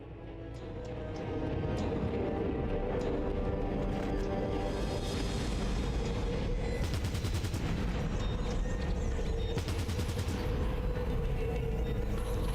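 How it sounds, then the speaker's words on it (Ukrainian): Continuous loud rapid gunfire and explosions in Fallout Tactics rattle without pause, dense and close. "Критичний постріл пройшов по Пітеру."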